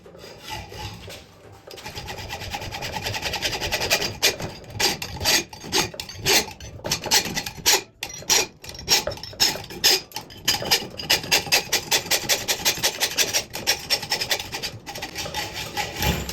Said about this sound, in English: just gotta let's play around and see how the saw will line up best